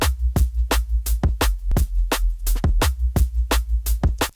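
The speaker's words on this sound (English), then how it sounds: "something that sounds a little bit boring, just a little sine wave sub" A plain sine wave sub bass for drum and bass holds a steady, deep low tone throughout, with regular punchy drum hits landing over it in a fast, even rhythm.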